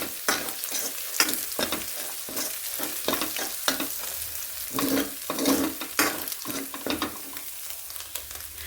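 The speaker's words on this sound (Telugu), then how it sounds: "ఇది మంచిగా వేగేంత వరకు వేపుకోవాలన్నమాట" Egg mixed with chili powder fries in a pan with a constant bright sizzle, broken by frequent scraping strokes of a spatula that give an irregular, busy rhythm at close range. No one speaks.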